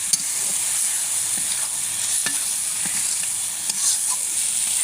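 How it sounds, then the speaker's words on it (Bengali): Tilapia fish pieces braised and fried with tomato in a pan give a steady close sizzle of hot oil, with scattered scrapes and clicks of stirring running throughout. "আমি একটু কষিয়ে নিলাম"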